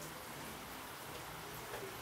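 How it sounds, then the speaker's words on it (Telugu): Steady rain falls over a village during a gloomy, drizzly spell, a soft, even hiss of drops that stays faint and unchanging throughout with no other sounds. "వర్షం పడుతుంది, చీకటి తిరగ మొదలైంది"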